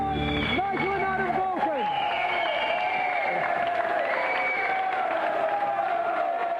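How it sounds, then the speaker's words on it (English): Studio audience applause and cheering on a game show, a loud steady crowd roar with voices calling over it and a brief harmonic jingle at the start. "Have a round of applause, Nigel and Adam"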